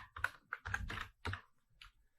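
Quick, close keystrokes on a computer keyboard as a web address is typed, a brief run of clicks of varying strength with no talking.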